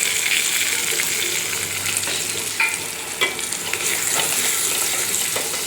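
Small onions frying in a pan with spices, a steady close sizzle of oil with scattered crackles and light stirring scrapes, no voices.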